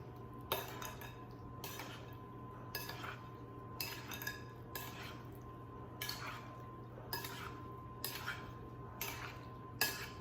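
A spoon stirs sugar, spices and cornstarch into sliced peaches in a bowl for a country peach pie, giving soft, regular clinks roughly every second over a faint steady hum.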